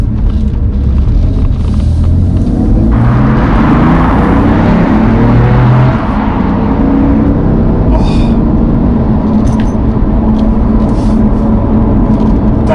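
A 2017 BMW M3 Competition's engine and exhaust, a loud continuous rumble with a rising, falling tone as the car accelerates, heard from inside with a brief spoken exclamation.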